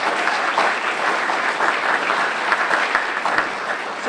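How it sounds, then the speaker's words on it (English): Loud, sustained audience applause from a lecture crowd, dense steady clapping carried on for several seconds with no one speaking over it. "Give them a round of applause"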